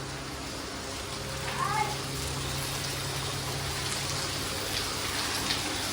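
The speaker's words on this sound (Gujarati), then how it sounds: "જોઈ લો કેવો વરસાદ આવે, ગુસ્સા કાઢેલો વરસાદ આવે ને" Heavy midday rain pours down outdoors as a steady, close wash of hiss and patter that never lets up, with a soft chirp-like sound briefly near the start.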